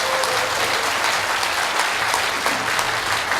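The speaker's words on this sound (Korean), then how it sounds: "이 위대한 우리 선배들에게 박수 한번 크게 보내주시기 바랍니다" A large audience applauds steadily at a Korean speech, with dense, sustained clapping throughout and no pauses.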